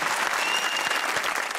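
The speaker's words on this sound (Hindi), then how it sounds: "अपने लिए तालियां बजाइए" Studio audience at a Pakistani comedy talk show bursts into steady, dense clapping that fills the room evenly from start to finish, with no voices rising above it.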